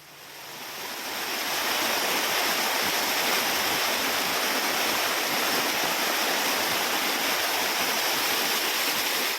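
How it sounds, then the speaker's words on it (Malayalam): Rainwater gushes down a hillside during heavy rain, a loud, continuous rushing roar that swells in over the first second and then holds steady and close, with no voices. "മയിലാടിക്കുന്നിൽ നിന്നും വെള്ളം കുത്തിയൊലിച്ച് താഴേക്ക് വരുന്ന ദൃശ്യങ്ങളാണിത്"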